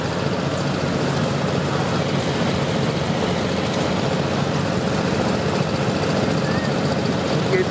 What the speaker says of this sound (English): We got John Emmanuel now going on the same tractor.